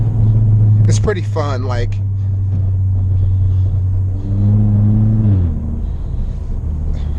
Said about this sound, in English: So you put your foot on the brake a little bit, downshift.